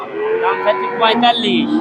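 A Friesian heifer moos with a long, drawn-out call at a busy rural cattle market in Bogura, heard up close over faint background crowd noise.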